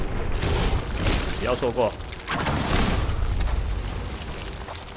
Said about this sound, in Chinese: 首先直接赏他两发火箭炮